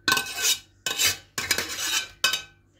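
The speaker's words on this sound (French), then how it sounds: "Là, je verse tout ceci dans un grand saladier." Cooked apples are tipped from a pan into a large salad bowl. Four scraping, clattering bursts of a utensil against cookware follow one another closely, loud and near, with no voices.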